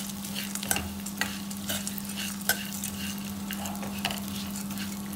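Nuts and seeds roasting in a pan, stirred continuously: a steady dry sizzle with regular scraping and rattling strokes, close and even, with no voices.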